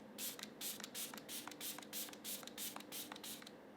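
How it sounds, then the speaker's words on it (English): Korean Dalba face mist sprayed in a quick series of short bursts, about a dozen hissing puffs in steady rhythm, close and fairly quiet, alone without talk. "So I'm gonna go in with the Dalba mist."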